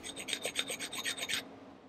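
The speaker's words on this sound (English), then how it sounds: "there's a little thing that I got to do some more lapping here" Rapid rhythmic rasping strokes of lapping a straight razor honing stone, about ten quick back-and-forth passes, close and crisp, then stopping abruptly into quiet.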